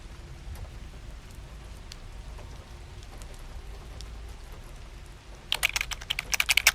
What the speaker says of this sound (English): I think she's typing now.